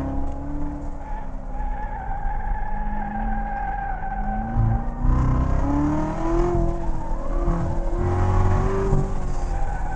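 Chevrolet Corvette C7 Z06 driven hard on a race track, its engine roaring and climbing steadily through the revs as it accelerates, with tire squeal and a loud, continuous close-up drone.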